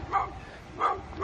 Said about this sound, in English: Is this dog barking at me?